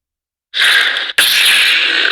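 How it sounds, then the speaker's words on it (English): A Proffie-driven Neopixel lightsaber with a Darth Sidious sound font makes a sudden loud electronic hiss after silence, breaks off briefly, then resumes as a steady harsh buzzing wash. "switching sound fonts is just hitting auxiliary. Darth Sidious"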